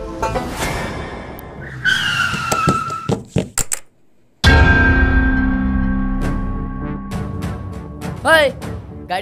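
A car skids with a sharp, close tyre squeal, cuts off abruptly, then gives way to a loud rumbling roar and further brief squeals.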